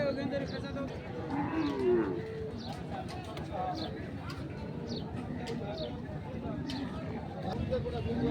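A Sahiwal bull stands at a busy cattle market, where low mooing and livestock noise mix with cooing pigeons and other birds, under steady nearby talk from people.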